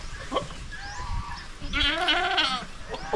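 Young goats bleat in wavering, quavering cries on a farm, one call early and a louder sustained bleat in the latter half, with faint rustling and background noise throughout.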